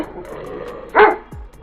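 A single sharp bark from a cartoon dog chasing a wolf rings out once, loud and close, with a brief low thud after it.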